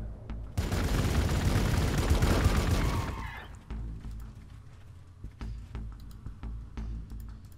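Units blast away with guns in Warhammer 40,000: Gladius – Relics of War, a dense roaring volley of fire lasting about three seconds, then scattered sharp clicks and ticks.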